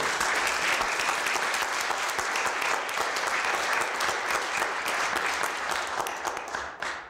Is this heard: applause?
yes